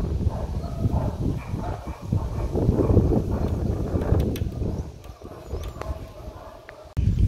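Wind blowing outdoors at a home where laundry is hung to dry, a steady gusty rumble buffeting the microphone with rustling, dipping briefly before a sudden strong gust at the end.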